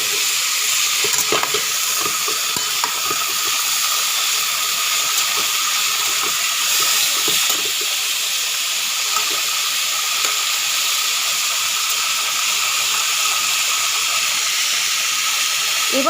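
Soybean chunks and mixed vegetables cooking in a pan, giving a steady broad hiss and sizzle with occasional clicks of stirring, close and continuous for the whole stretch.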